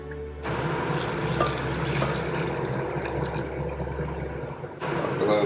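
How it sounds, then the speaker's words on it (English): Water runs steadily from a tap into a pot of Norwegian game stew, an even, close wash of liquid that fills the kitchen and then eases off. "You probably need to add a little bit of water."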